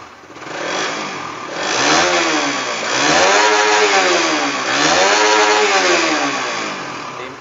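Suzuki Satria FU fuel-injected motorcycle engine revving up in repeated rising and falling sweeps, close and loud, with no talk.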